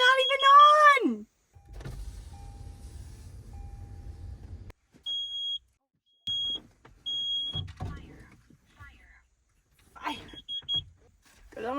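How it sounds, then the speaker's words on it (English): A carbon monoxide detector in a cold rooftop dwelling gives short, high electronic beeps in a few quick bursts, with a person talking before and after. "Warning, carbon monoxide. It's not even on!"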